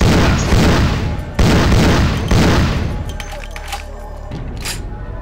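Video game gunshots boom out loud and close, three heavy blasts in quick succession, then fade into quieter scattered pops and rumbling.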